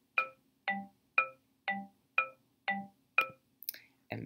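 Chrome Music Lab produces a soft electronic ostinato of short plucked tones alternating between do and re, eight evenly spaced notes at a steady pulse that ends in a brief burst of brighter sounds.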